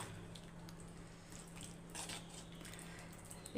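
A spoon stirs thick vatha kuzhambu, a tamarind gravy, in a pot, making soft, faint scraping and squelching sounds over a steady low hum.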